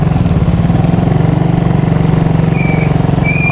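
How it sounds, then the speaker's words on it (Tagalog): A loud, steady engine idles close by with a rough, rapid low rumble, continuous throughout, with faint high whines near the end. "Maingay na naman tong motor natin"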